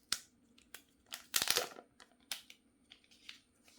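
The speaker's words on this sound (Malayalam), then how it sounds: "സോ ഞാൻ സ്റ്റിക്കർ ബിൽ ഓഫ് ചെയ്യാം." A protective sticker peeled off a Luna White Realme GT Master Edition phone, heard as a string of close, crisp crinkling and tearing bursts, loudest in the middle, with quiet pauses between them.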